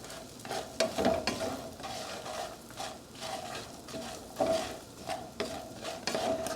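Pecans cooking in a hot pan on high heat: a steady sizzle broken by repeated stirring scrapes and light clinks, close and moderately loud.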